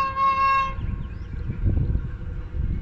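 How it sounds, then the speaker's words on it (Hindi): An express train passes through Moradabad railway station, its horn blaring loud and sustained at first, then giving way to a heavy rumbling roar of wheels and carriages rushing close by. "44 डाउन शाह हुसैन एक्सप्रेस पास होगी मुरादाबाद रेलवे स्टेशन से"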